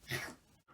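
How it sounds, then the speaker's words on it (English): A white cat gives a short, breathy sneeze, a single soft burst that fades quickly, followed by a faint snuffle. "I recognise that sneeze"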